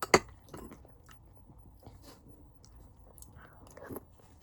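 Someone eating green yogurt loaded with kiwi, with a sharp bite at the start and then soft, irregular chewing and mouth sounds, close and fairly quiet with no speech.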